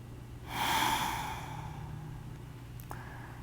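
One slow, deep breath during a gentle evening yin yoga session, a soft airy inhale swelling then easing into a long, quiet exhale, close and alone over a low steady hum.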